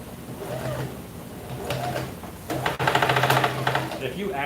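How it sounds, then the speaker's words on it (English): A sewing machine stitches in short bursts, its rapid mechanical chatter close and fairly loud, running in between and under casual talk. "don't watch me sew."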